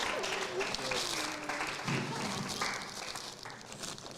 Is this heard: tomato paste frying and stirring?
no